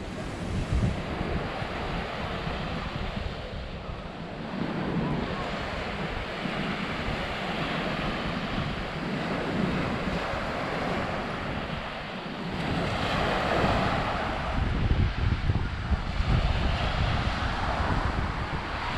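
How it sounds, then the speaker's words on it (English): Surf and wind on Tertsa beach in Crete, Greece: a continuous wash of breaking waves mixed with gusty wind buffeting the microphone, steady and fairly loud throughout with no talking. "And this is pretty much the rest of the beach"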